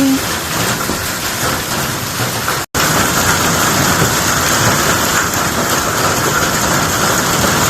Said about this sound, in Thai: ฝนตกหนักมากลูกเห็บตกลงมาดูสิคะก้อนใหญ่มากมากเลยค่ะ